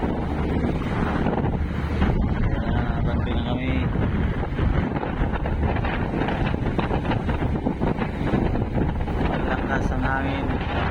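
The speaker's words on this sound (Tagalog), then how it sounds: "Malakas ang hangin, tapos maalon." Strong wind buffets the microphone in a constant roar, with rough waves churning and splashing around a boat moving on the West Philippine Sea while a person speaks briefly.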